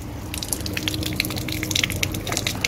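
Water spurts and splashes unevenly from a rainwater tap in a garden setting, a close run of irregular drips and gushes.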